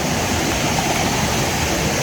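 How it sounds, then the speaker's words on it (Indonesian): A river trickles and rushes steadily beside a forest trekking trail near the Curug Cikawah waterfall, a dense, even, close water noise with no voices. "karena dipenuhi dengan suara gemericik air ya"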